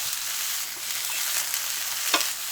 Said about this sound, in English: we could go ahead and throw in the onions. We're going to give those a nice stir so they cook evenly